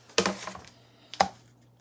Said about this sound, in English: Type in the word witch.